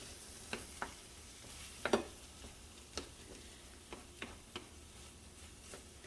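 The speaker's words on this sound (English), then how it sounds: "give it a good swirl, mix in those veggies and the tortilla shell" Eggs, vegetables and tortilla pieces being stirred in a skillet for migas, with soft sizzling under a string of sharp scraping clicks from the utensil, spaced irregularly across the clip, close and fairly quiet.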